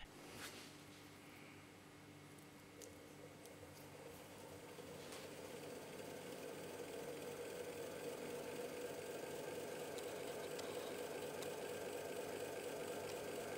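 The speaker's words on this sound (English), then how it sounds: "connect a 12-volt DC power supply to the motor to keep it running at a slow speed" Motor salvaged from a Miele washing machine turning slowly on a 12-volt DC supply, a faint, steady low hum and whir that gradually grows slightly louder, with a few soft ticks and no voices.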